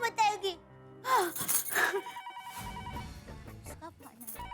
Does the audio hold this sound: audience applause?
no